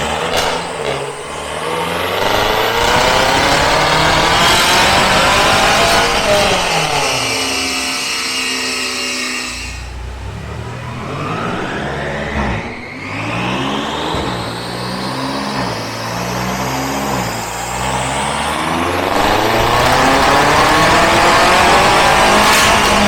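A decatted BMW M3 engine revs hard through a loud, raw exhaust, rising and falling in long sweeping pulls with a brief dip midway, close and deafening with no talking.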